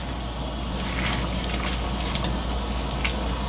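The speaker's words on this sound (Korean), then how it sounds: "이제 물이 끓으면은 씻어둔 시금치를요 넣으시면 돼요." Washed spinach is dropped into a pot of boiling water, heard as a continuous bubbling, seething rush with a low hum beneath and a few soft splashes, close and fairly loud.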